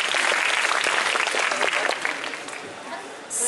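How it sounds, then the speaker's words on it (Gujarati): A large audience claps steadily and densely throughout, a full, close wash of applause at a talk given to students, easing slightly toward the end with no voices on top. "તાળીઓ એક જાતનું સંવાદ છે ઓડિયન્સ અને સ્પીકર વચ્ચેનો"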